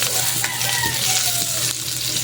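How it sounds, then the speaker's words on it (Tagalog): Mussels sautéing in a hot pan with onion, ginger, garlic and chili, a steady close sizzle and frying hiss with light stirring throughout, no talk. "Gigisahin ta muna yung tahong mga idol bago natin lutuin sa Nesquik cream mga idol"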